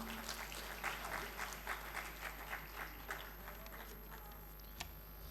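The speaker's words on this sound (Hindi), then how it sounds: "तालियां बजा के उनका अभिनंदन।" Applause from an audience at a regional Arya Samaj conference in Jammu and Kashmir welcoming a guest, steady and moderately loud over a low hum, with scattered louder claps.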